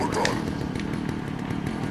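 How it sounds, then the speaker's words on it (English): A chainsaw revving loudly in the Resident Evil 4 video game, a steady buzzing snarl held close and continuous amid game sounds. "You can hear his chainsaw. It revs up pretty loudly if I do say so myself."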